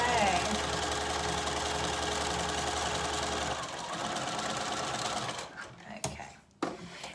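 Sewing machine running steadily, stitching an underarm seam on a 1.5 centimetre seam allowance, then slowing into short stop-start bursts and clicks near the end.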